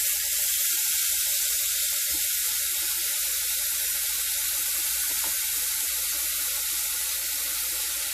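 Meat sizzling steadily after being laid into a hot pan, a continuous loud hiss and crackle lasting throughout with no speech.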